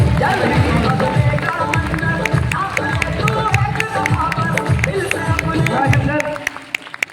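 Audience applause at an awards ceremony in Bhagalpur, a dense, steady wash of clapping with crowd noise that carries on for several seconds, then cuts off near the end.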